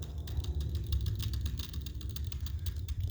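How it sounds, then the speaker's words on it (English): Spur gears on an RC 6x6 truck driven by two brushless motors on a 3S battery, slapping between the motor gears with a rapid, irregular clattering over a steady low drivetrain drone. "what you're hearing is the spur gears slapping in between the two motor gears"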